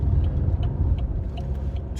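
A car drifting across three or four lanes of busy highway traffic, a steady rumbling road and engine drone with tire noise and passing vehicles, heard from inside the cabin.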